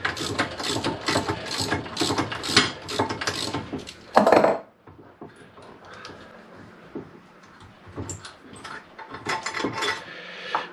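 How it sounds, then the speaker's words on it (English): A hand ratchet removes the bolts from a Mini R50/R52/R53 rear trailing arm, making close bursts of rapid metallic clicking with a sharp clank midway, a quieter stretch, then more ratcheting. "I need to get my ratchet, just pull all five of those bolts out"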